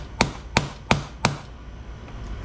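A tool hammers four times at a stuck Phillips screw on a 400cc scooter, evenly spaced sharp metallic blows roughly a third of a second apart, close and loud, with a brief ringing decay and then quiet.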